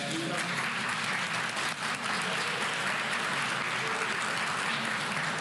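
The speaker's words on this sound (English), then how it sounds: "Would you give her a big hand clap?" Audience applause for Dr. Rebecca Chazon, dean of the William Charles School of Social Work, at a ceremony: dense, steady clapping that fills the hall loudly and evenly from start to finish.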